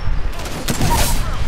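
Rapid burst of gunfire from an Apex Legends match, a dense fusillade of shots running steadily through the moment, loud and close, with a player's voice briefly mixed in.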